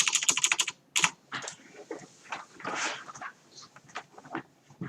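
Rapid clacking keystrokes on a computer keyboard, a fast flurry at the start and then irregular taps, close and clear, with faint noises in the background.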